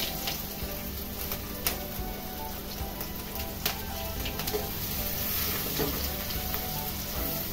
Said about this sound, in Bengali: তেলটা গরম হয়ে গেছে, এবার আমি এর মধ্যে দিয়ে দেবো প্রথমে গাজরটা।